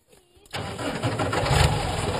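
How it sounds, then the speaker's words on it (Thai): A tractor engine cranks and catches, then settles into a loud, rumbling idle nearby. "ไปสตาร์ทเครื่อง ไปเครื่องนะ"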